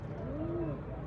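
A pigeon gives a single soft, close coo, a low rounded call that rises and falls in just over a second against a steady background.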